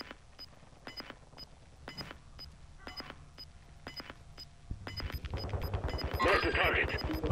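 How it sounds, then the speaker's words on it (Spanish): Gunfire in Call of Duty Warzone 2.0: a string of sharp shots spaced unevenly over steady game ambience, with a denser rattle of fire building near the end, while players talk quietly. "Se oye bien cerca ese disparo."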